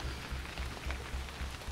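Light rain patters on a surface outdoors at a reed-lined camp, a soft, even hiss over faint low rumbling, brief and fairly quiet.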